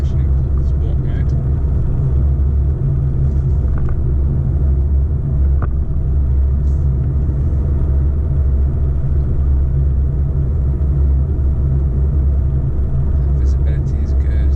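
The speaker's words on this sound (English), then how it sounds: "Let's try some acceleration in sport mode." A 2021 CUPRA Leon VZ2 accelerates in sport mode, its engine a constant, loud low drone heard from inside the cabin, with only faint scattered noises above it.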